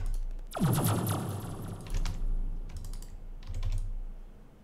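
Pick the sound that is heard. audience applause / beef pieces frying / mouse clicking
mouse clicking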